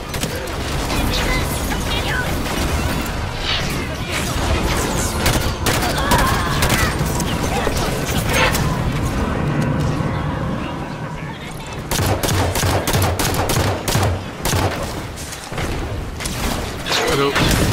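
Dense gunfire fills a Halo 5 battle against Covenant forces, with rapid bursts, booms and mechanical clatter running continuously under French dialogue.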